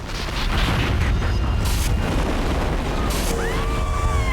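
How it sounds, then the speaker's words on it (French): A loud, sustained roaring rumble like a big explosion, heavy low-end boom filling the whole clip, with a faint high whistling tone near the end. "Ça, c'est de l'explosion."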